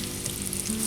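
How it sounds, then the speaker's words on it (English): Hash browns fry in a skillet with bacon and onions, giving a loud, continuous crackling sizzle heard close up with no talking. "Now we're going to add the hash browns to the bacon and onions."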